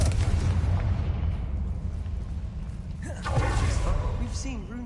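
A Confringo blasting spell in a Harry Potter video game sets off a deep rumbling explosion that rolls on and fades, then a second burst swells as a voice speaks over it.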